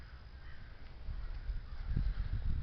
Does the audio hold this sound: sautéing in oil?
no